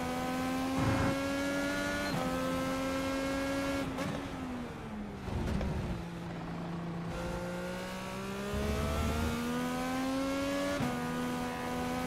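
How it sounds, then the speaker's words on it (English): NASCAR race car circling the racetrack at Chicagoland, a loud, sustained engine whine that shifts pitch with gear changes and lifts off through the corners, heard steadily without talk. "Car on the racetrack."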